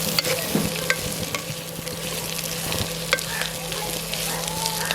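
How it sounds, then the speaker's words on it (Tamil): Onions, green chillies and curry leaves sauté in oil for a Jaffna-style village chicken curry, giving a steady, close sizzle with scattered scraping stirs throughout and no voices. "இதை நாங்கள் கொஞ்சம் நேரம் வதக்குவோம்"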